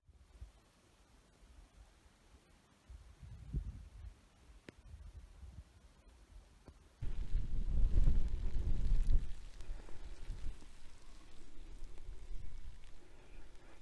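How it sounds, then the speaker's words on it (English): Wind buffets the microphone outdoors at a wild campsite on the Quiraing, Isle of Skye, rising sharply partway through into a steady rushing roar, with a soft patter of rain beginning. "Starting to rain now, so I better get inside."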